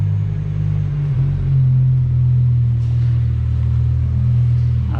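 A BMW S85 V10 engine runs at a steady, close idle, giving a loud, even, low droning rumble with a slight swell partway through.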